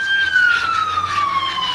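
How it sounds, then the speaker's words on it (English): An ambulance siren passes by, a loud, sustained wailing tone that slides slowly downward in pitch as it moves past, with faint traffic rumble beneath. "And there goes ambulance"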